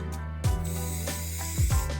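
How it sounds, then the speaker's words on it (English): Short bursts of Rust-Oleum white primer spray from an aerosol can, several sharp hissing puffs in quick succession, close and fairly loud. "I got started by spraying a Rust-Oleum white primer to all of the items"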